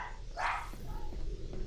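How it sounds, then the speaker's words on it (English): One loud, close dog bark in the Portal video game, followed by quieter game noises and faint murmurs. "Oh, dogs are barking."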